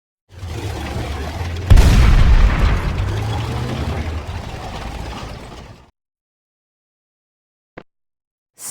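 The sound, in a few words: tank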